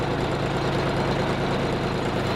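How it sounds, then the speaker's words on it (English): A tractor engine idles in the background with a steady, low, rumbling drone, continuous and even throughout, with no talk over it. "The sound you can hear in the background just now is our tractor."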